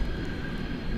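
Cathay Pacific airliner at DFW airport at night, a steady low jet rumble with a faint high whine holding evenly through a brief moment, no voices.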